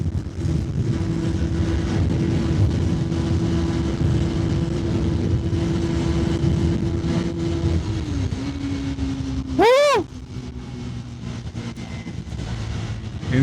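A KTM/Bajaj NS 400Z motorcycle engine drones steadily while riding fast through traffic, pitch dipping around a gear change, with a brief sharp whooshing pass of another vehicle near the end, heard close up from the rider's position.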